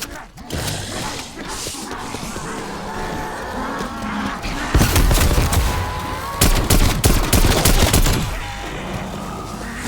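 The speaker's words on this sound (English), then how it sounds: "See? Pack-a-Punch shotgun." Rapid, loud gunfire from an upgraded Pack-a-Punch shotgun blasting zombies in Call of Duty, dense overlapping shots that thicken in the second half amid game noise, with some talk underneath.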